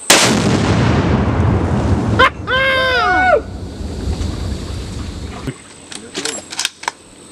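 An explosion set off at a hunting camp booms loud and close at the start, its heavy rumble rolling on for a couple of seconds, followed by shouting voices and scattered knocks as it fades.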